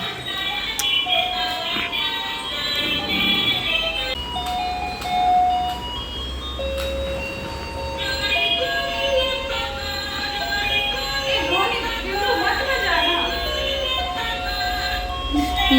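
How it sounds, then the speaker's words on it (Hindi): A baby walker toy plays a bright, tinkly electronic nursery rhyme melody up close, continuing through the whole stretch with a child's babble and adult voices intermittently over the tune. "जब से ये वॉकर आया तब से वृंदा बार बार उसमें राइम बजा बजा के सुन रही थी"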